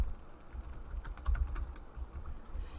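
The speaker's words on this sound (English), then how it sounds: "if you just start typing" Someone types on a computer keyboard, producing a quiet, irregular run of light key clicks up close, with no talk.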